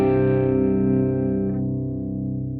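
Clean electric guitar through a This Heavy Earth Flesh Rot amp sim, a single sustained chord ringing out and slowly decaying, with the upper overtones fading first.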